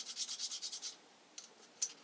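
Light abrasive rubbing on metal lathe chuck jaws with wet-and-dry paper: about eight quick, even strokes close up, then quiet with two faint scrapes.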